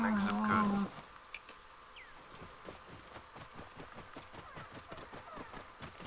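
Horse hooves clip-clop at a steady walking rhythm in Assassin's Creed Origins, set near the pyramids of ancient Egypt, moderately close and fairly quiet, following a brief louder burst at the start.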